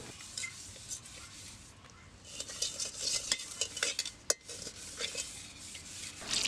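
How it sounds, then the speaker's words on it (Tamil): Rough, irregular scraping and rubbing as coconut fiber scrubs a metal pot, with occasional clinks, close up and fairly quiet. "தேங்காய் நார் யூஸ் பண்ணி தான் வளர்க்குறேன்."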